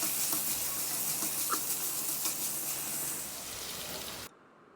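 Sweet pineapple pieces sauté in a hot pan for pineapple mor kolambu, giving a steady, close, dense sizzle that stops abruptly near the end, with no talking.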